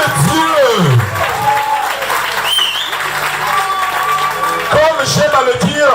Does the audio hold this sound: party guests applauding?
yes